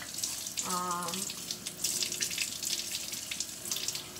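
Hands scrubbed with charcoal soap under a running tap, a steady splashing water stream with brief squeaky rubbing tones, close and continuous.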